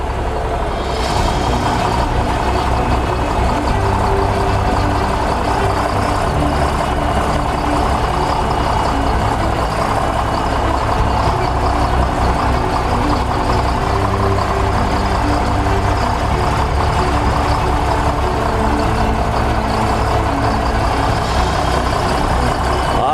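Tractor pulling a no-till drill in first gear while planting wheat, a loud, steady, low diesel engine drone that continues unbroken throughout, close up with no talking.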